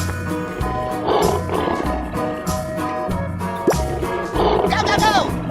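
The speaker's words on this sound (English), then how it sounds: "Lion." A lion roars as a sound cue in an escape room guessing game, loud and sustained over a busy backdrop of music and effects.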